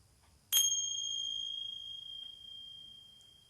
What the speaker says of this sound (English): I'm going to shortly chime these tincture bells just once